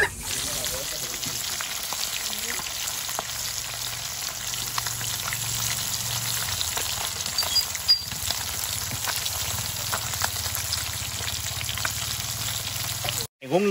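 Fish frying in hot oil gives a steady, dense sizzle that holds at one loud level throughout, close to the pan, with some faint background sound underneath.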